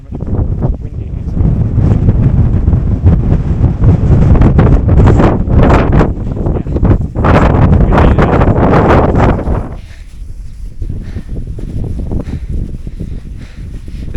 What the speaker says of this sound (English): how much more windy it is